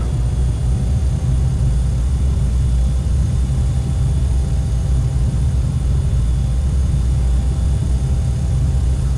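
A Quest Kodiak single-engine turboprop takes off in a flight simulator game, a loud, constant engine drone with a steady tonal hum that holds unchanged from start to finish.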